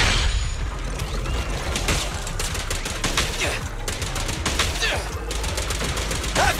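Rapid gunfire in the video game Zenless Zone Zero rattles in dense, continuous bursts over a heavy low rumble, with mechanical clacks and metallic impacts layered throughout.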